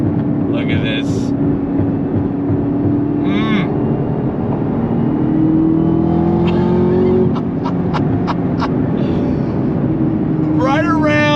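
Chevrolet Camaro ZL1 1LE with a manual gearbox revving hard under sustained engine drone, with sharp exhaust bangs and pops as revs drop, recorded from inside while people talk over it.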